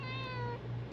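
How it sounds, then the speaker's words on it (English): A house cat gives a single short meow, close and fairly soft, with a brief bump of noise at the very end. "Maybe she's meowing"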